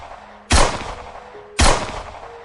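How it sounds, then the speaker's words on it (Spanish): Two loud, sharp gunshots about a second apart, each cracking sharply and then fading. "Escuché algunos disparos detrás de mí"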